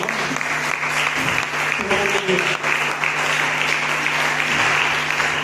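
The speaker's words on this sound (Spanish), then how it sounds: "Den un aplauso al Señor" Congregation applause during a Wednesday church worship service, a continuous roar of clapping mixed with crowd voices and a low sustained tone beneath, steady and fairly loud throughout.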